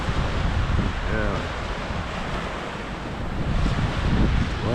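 Steady surf and wind roar along the beach waterfront in Aberdeen, loud and continuous with buffeting microphone wind noise, while faint voices come through briefly.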